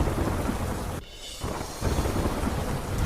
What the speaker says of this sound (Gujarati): પવન સાથે વરસાદી ઝાપટા પડતા રસ્તા ભીના થયા.